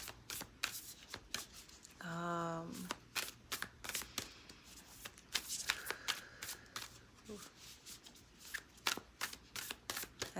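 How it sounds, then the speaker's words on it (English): Cards shuffle in rapid, crisp riffles and taps close up, with a brief vocal hum and occasional soft voice in between. "as I shuffle the cards"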